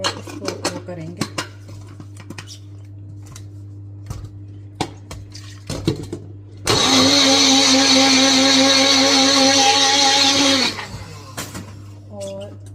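A kitchen blender whirs loudly for about four seconds mixing matcha powder with water, set between clinks of dishes and utensils, with a person talking before and after.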